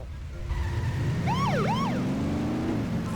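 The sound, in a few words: police car siren from video game The Simpsons Hit & Run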